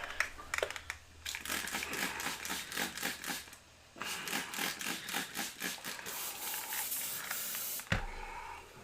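An airbrush gun is flushed and cleaned out in rapid, hissing spray bursts that sputter and pulse close by, broken by brief pauses.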